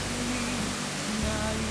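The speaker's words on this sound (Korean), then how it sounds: "그냥 물소리만 들었습니다." River water in Madagascar flows and splashes into a pool, making a dense, constant rushing noise close by, with no one speaking.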